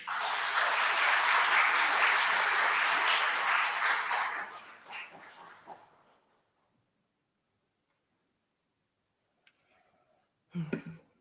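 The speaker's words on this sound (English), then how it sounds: "Can we welcome her with a loud round of applause?" Loud audience applause welcomes a speaker at an interfaith Big Iftar and Eid celebration, a dense sustained clapping that fades out after about five seconds, followed by near silence and a brief rustle at the end.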